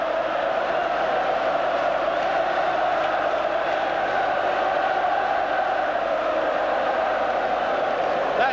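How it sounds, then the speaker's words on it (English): A massive football crowd at Hampden Park roars steadily through the 1988 Scottish Cup Final between Celtic and Dundee United, a dense, sustained wall of cheering with no breaks. "That massive support in the background"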